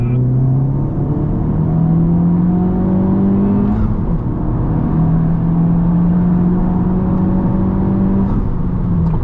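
A Stage 2 tuned Honda Civic Type R FK8 revs and pulls hard, its droning pitch rising through the gears with a loud, continuous rumble from inside the cabin.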